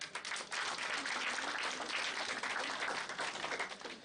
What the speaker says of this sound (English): let us take it off with a big round of applause